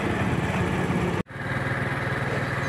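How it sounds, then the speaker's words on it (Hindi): A motorbike engine runs steadily and close by with a harmonic, idling-like drone, briefly cutting out for a moment midway before picking back up, at the entry to a wildlife park. "मैं अब बाइक पे जा रहा हूँ"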